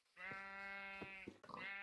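Sheep in the Minecraft video game bleat with a steady, nasal, wavering tone lasting over a second, followed by a second shorter bleat, clear and close with no talking.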